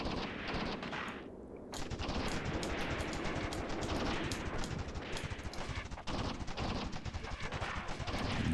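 Gunfire and artillery in the wargame Tank Warfare: Tunisia 1943 rattle in dense, continuous bursts of crackling shots and thuds at a fairly low, distant level, with no pause through the stretch.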